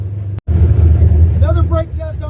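An old car parked since 1999, fitted with bullet mufflers, drones loudly at about 1,500 RPM, a heavy low booming exhaust that cuts out for an instant before resuming, with someone speaking over it near the end.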